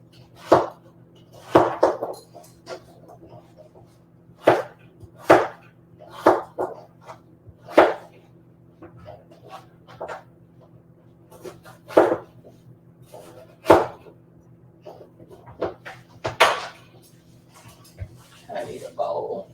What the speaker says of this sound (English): back to cutting up our squash